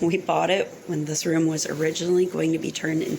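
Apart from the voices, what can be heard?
None of the usual background noises is heard.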